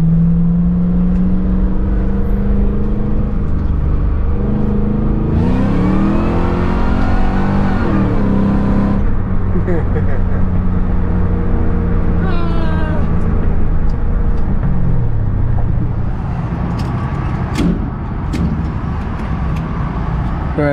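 A Ford Crown Victoria engine revs hard under heavy acceleration, its loud exhaust roar climbing and falling through repeated pulls and gear changes, close and continuous with no talk.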